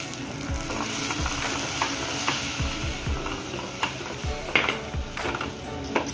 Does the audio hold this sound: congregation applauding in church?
no